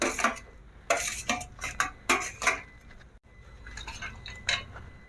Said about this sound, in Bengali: এবার এর মধ্যে মাছ ভাজা আর বেগুনগুলো দিয়ে দেবো।